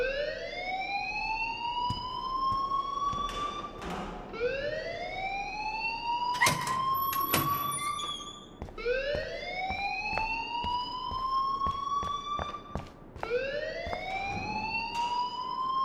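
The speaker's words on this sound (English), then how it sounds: "please turn off that alarm since that's your job" An alarm wails in Life Is Strange, a loud rising siren tone that repeats in sweeping cycles about every four seconds, with sharp clicks and thumps over it.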